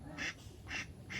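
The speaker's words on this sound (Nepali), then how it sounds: "काली मन्दिर हाँस चढाउन हेर्नुस्" Two ducks brought as offerings to a Kali temple during Dashain quack three times in a regular rhythm, with loud, close, nasal calls.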